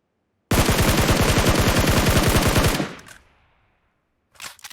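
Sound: gunfire in the video game PUBG Mobile

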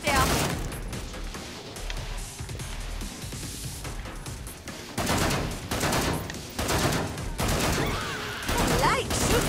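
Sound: gunfire in the video game Killing Floor 2

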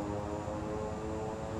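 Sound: reverse thrust of airliner engines after landing, Microsoft Flight Simulator video game

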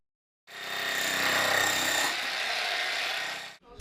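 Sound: jackhammer breaking through to a rotten pipe

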